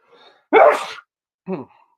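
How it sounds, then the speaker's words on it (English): A single loud, close sneeze bursts out after a faint inhale, followed by a short sniff or gasp. "you just hear me sneeze"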